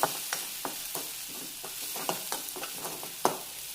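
Grated dry coconut roasting in a pan with garlic cloves, a soft steady sizzle with a regular run of light spatula scrapes and taps, fairly quiet and close.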